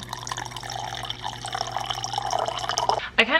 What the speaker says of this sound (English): I'm gonna fill this up with water